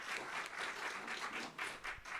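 An audience applauds at the Torch Club, a live music venue in Sacramento, giving faint, distant, steady clapping from a crowd for a short stretch.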